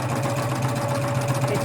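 Sewing machine running steadily while stitching binding with a binding attachment, a close continuous motor hum with a sustained whir and no pauses, and a voice faintly present underneath.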